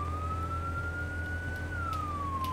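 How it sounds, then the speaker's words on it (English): A fire truck siren sounds in the PS5 game Firefighting Simulator, giving a single slow wail that rises and falls over a steady low engine drone, with no one speaking. "we should probably turn the sirens on"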